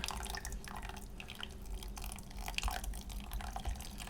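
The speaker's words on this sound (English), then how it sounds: "It's just 1 cup of boiling water." Boiling water poured into a gel plate mixture gives a steady, close liquid rush with small drips and splashes, continuous for the whole stretch with no talking.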